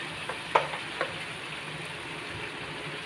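Jackfruit curry fries with spices in hot oil, giving a soft, steady sizzle with a few brief clicks and scrapes of stirring close by.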